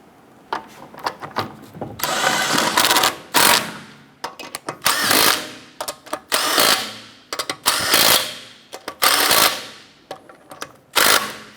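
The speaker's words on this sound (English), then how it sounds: "Let's go ahead and get your lug nuts installed." Repeated bursts of an impact wrench snugging down the lug nuts on a 2008-2012 Honda Accord front wheel: about a dozen short, loud, rattling runs with brief pauses between them, with no voices.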